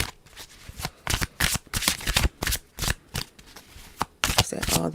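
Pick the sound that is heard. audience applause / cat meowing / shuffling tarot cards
shuffling tarot cards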